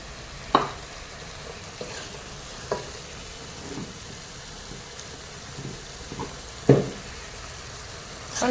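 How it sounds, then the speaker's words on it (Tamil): Chopped onion, green chilies, curry leaves, pepper, cumin and fennel sauté in oil for a Chettinad crab curry, giving a soft steady sizzle broken by a few sharp stirring knocks against the pan. "குறைன்னு சிறிய கொஞ்சம் வெங்காயம், 2 பச்சை மிளகாய், கருவேப்பிலை, மிளகு, சீரகம், சோம்பெல்லாம் போட்டு வதக்கியிருக்கோம்."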